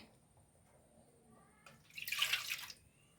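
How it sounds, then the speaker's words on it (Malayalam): Second coconut milk pours into a pot of wheat payasam cooked with jaggery, a short liquid splash and trickle swelling up then fading, fairly close, with no one talking. "ഞാൻ രണ്ടാം പാലും കൂടെ ചേർത്ത് കൊടുക്കുകയാണേ"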